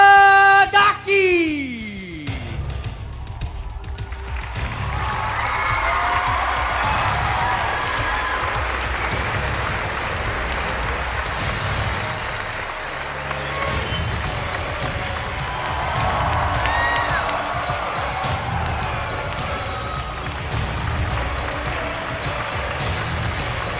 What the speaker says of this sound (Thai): ขอเสียงปรบมือต้อนรับอาลีคาราดากี